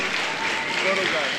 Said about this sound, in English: one more round of applause for this large senior class and all their families